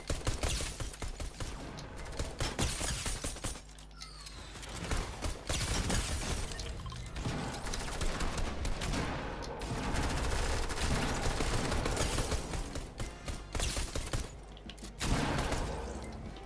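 Pistol fire in Fortnite, with dense, rapid shots and crackling bursts stacked over a loud, busy game mix for the whole stretch and no clear pauses.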